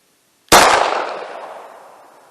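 A single sharp 9mm gunshot from Winchester white box round nose full metal jacket ammunition, loud and close, with a long ringing decay afterward.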